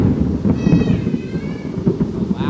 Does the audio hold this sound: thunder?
yes